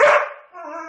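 A dog caught in window blinds gives a single sharp bark at close range, followed by a brief whimpering whine.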